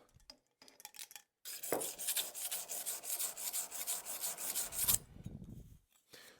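A curved cabinet scraper is rubbed back and forth on a rough synthetic 100 grit sharpening stone to work off the burr, giving a steady rasping scrape with quick repeated strokes for several seconds between brief pauses.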